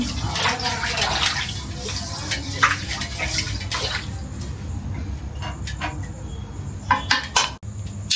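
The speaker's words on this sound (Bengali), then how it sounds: "আমি কড়াইটা সুন্দর করে ধুয়ে নিই।" A wok (karai) being rinsed and washed with water, splashing and running water with light clinks of metal, close by, with a voice talking over parts of it.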